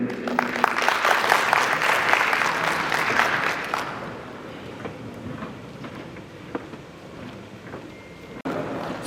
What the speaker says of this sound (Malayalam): അവർക്കൊരു നല്ല കൈയടി കൊടുക്കുക